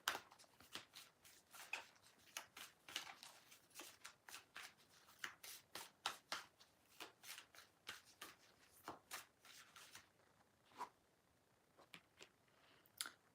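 Playing cards are shuffled in quick, soft riffles and flicks, close up and quiet, continuing in an irregular rhythm with a few pauses near the end.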